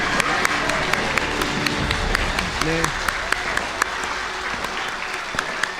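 A church congregation applauds at a New Year's Eve service, a steady dense wash of clapping from a large crowd that carries on throughout, with faint voices and a brief tone rising partway through.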